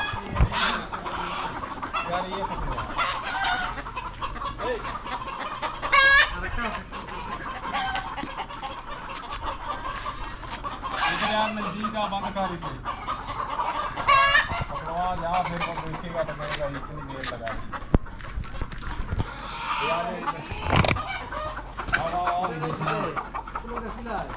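Native hens on a hillside farm in Saudi Arabia cluck and squawk in repeated bursts close by, while someone talks over them.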